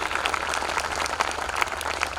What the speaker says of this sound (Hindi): जोरदार ताली के साथ भाई गौरव शर्मा का अभिनंदन करें